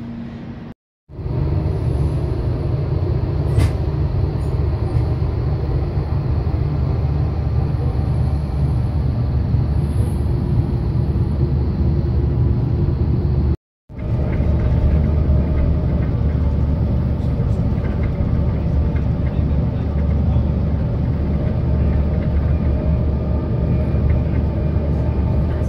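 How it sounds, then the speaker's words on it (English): Steady urban din in a noisy city area near the water, with continuous low rumble of trains, traffic and construction filling the whole stretch, loud and unbroken apart from two brief cuts. "this place is just noisy with construction and trains and all sorts of things"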